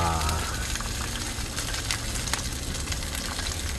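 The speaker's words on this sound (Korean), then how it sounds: "기름 튀기 전에 조금 기다렸다가 불 조절하고 다시 섞어주고 다시 볶아주겠습니다" Fried rice frying in canola oil on a cast-iron pot-lid griddle at a car-camping cookout gives a loud, continuous close sizzle with faint scraping through it.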